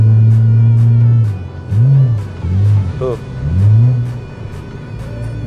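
Mitsubishi Galant Saber with a stance build and a Dustek-tuned engine, revving up and down in several bursts close by with deep rising and falling notes, while someone talks over it.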